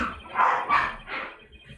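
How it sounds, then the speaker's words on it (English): Several dogs bark in short overlapping bursts, three or four loud yaps close by in quick succession with no talking. "The dogs are going crazy for no reason."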